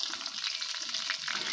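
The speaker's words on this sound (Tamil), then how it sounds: "வெங்காயம் வதங்கிட்டு இருக்கும்போது" Small onions (shallots) sautéing in oil in a pan for a toor dal sambar with drumstick and brinjal, a steady close sizzle and crackle running continuously without any talk.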